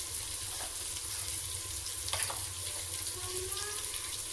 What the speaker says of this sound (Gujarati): અમે મગનું શાક વઘારવા બેસી ગયા છીએ. ટામેટા મરચા ઠરે છે.